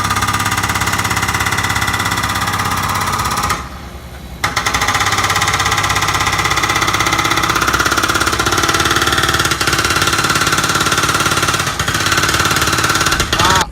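Car engine running steadily while driving away from a shop, a loud continuous rumble with a rough, knocking texture throughout, briefly dipping for about a second before resuming at full level.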